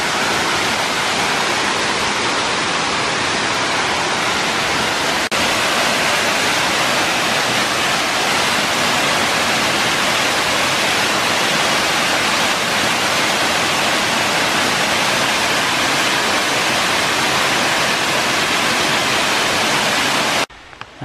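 Turkeyfoot Falls in the Sipsey Wilderness of Bankhead National Forest, Alabama, a steady loud roar of falling water heard from close by on a sandbar, unbroken and dense, alone with no voices.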